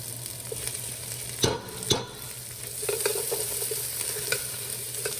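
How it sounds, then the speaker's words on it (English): Tomato paste and chopped vegetables fry in a hot pan for a shrimp étouffée, giving a steady close sizzle with a few sharp utensil knocks and stirring scrapes partway through. "we'll start cooking our tomato paste with the veggies"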